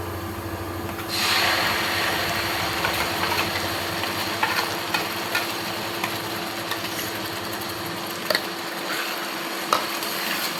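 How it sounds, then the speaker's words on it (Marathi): Paneer masala gravy with onion sautés in a pan, a steady low sizzle with occasional spoon scrapes and stirring clicks, quiet and close without speech. "आता ही ग्रेव्ही आपल्याला एकदम छान परतून घ्यायची आहे 5 ते 6 मिनिट"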